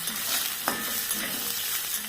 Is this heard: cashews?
yes